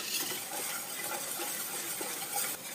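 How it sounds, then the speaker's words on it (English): Eggs and ingredients whisked together in a bowl, a soft, continuous scraping and tapping rhythm, faint and close, without any talking. "I'm just going to whisk those all together while cold"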